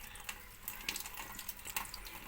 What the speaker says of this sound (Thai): นี่ครับค่อยๆถูล้างไปเรื่อยๆครับ